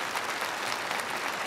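An audience clapping during a live interview event, with a brief stretch of steady, fairly loud applause from a crowd.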